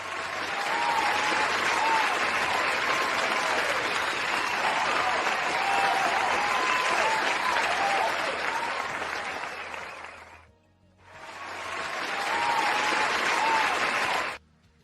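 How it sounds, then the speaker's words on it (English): Sustained applause from a live crowd, loud and dense for about ten seconds, a brief dip, then a renewed burst of clapping before it cuts off. "a big round of applause to you all"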